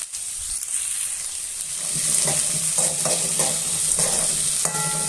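Onions and green peas sizzle and fry steadily in a pan for rava kichadi, with a utensil stirring and scraping now and then, close up and without talk.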